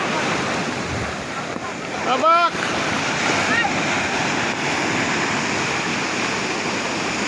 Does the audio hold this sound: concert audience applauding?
no